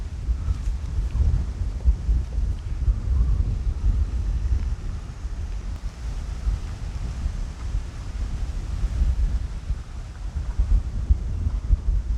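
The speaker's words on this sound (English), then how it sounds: "You've got to bear with me because it's so windy." Strong wind buffeting a microphone outdoors in open Essex countryside by a church, a constant heavy low rumble with gusty surges and no talking.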